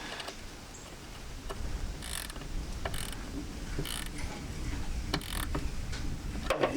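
Bolts are snugged down by hand on the MAP sensor of a 1993 Jeep YJ, giving a steady series of quick ratcheting clicks close by with light metal handling noise and no talk.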